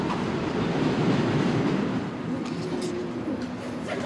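New York City subway train rumbling steadily nearby, a dense continuous roar with rhythmic wheel clatter and a few brief high squeals toward the end.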